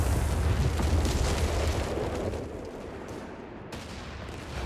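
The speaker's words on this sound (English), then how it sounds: "the speed at which the rockets are fired is quite slow" Rocket artillery fires and explosions roll through a Company of Heroes 3 battle, a dense, loud rumble of booms and blasts that slowly eases off.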